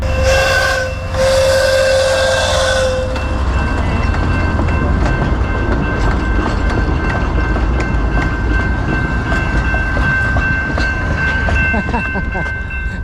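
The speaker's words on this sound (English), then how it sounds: "I think we're about to see an antique rail car." Train horn at Pioneer Park in Alaska, near the Chena Valley Railroad Museum and its antique rail cars: a loud, steady horn blast of about three seconds, then the continuous rumble and clatter of the rolling train.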